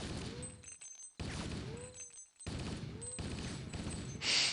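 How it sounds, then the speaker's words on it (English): Assault rifle from a Halo mod for a GoldSource game firing in three loud sustained bursts separated by short gaps, with a bright metallic click at the very end. "Let's fire the assault rifle."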